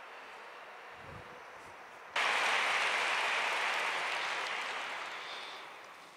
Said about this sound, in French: un applaudissement d'encouragement pour lui.